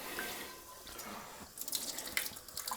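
Warm tap water runs into a cast iron pan to rinse out food debris, a steady faucet stream that turns splashier and more broken partway through as the pan is rinsed, close and moderate in level.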